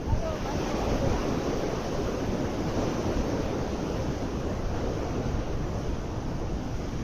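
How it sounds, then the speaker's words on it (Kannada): Water pouring out below a dam at full force makes a loud, steady roar with no letup, dense and broadband like heavy surf. "ಫುಲ್ಲು ನೀರೆಲ್ಲ ಫುಲ್ ಫೋರ್ಸ್ ಆಗಿ ಬರ್ತಿದೆ."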